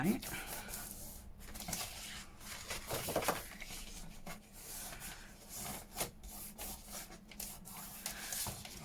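Fingers rub and press along folds of Amazon packaging paper while making a junk journal notebook, giving soft, close scraping and rubbing strokes that come and go under steady background noise.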